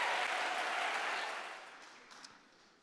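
An audience at a gala applauds as a congressman takes the stage, a dense wash of clapping that holds steady and then thins and fades toward the end, with no speech over it.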